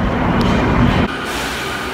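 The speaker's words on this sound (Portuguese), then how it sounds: "Agora já estamos na estação de trem, estamos indo lá para Harajuku pra gente comer." A train moves through a railway station in Japan, giving a loud, continuous rumbling roar of wheels and carriages that drops slightly in level partway through.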